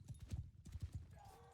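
Video game horse hooves clip-clop in a quick, close, rhythmic run of about eight beats, followed by a brief faint tonal game sound.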